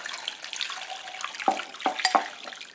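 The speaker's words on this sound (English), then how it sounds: "So I'm just going to pour this on top." Onion soup mix liquid poured over a beef brisket, a soft continuous splashing and trickling with a few brief wet drips and splats near the end, close and fairly quiet.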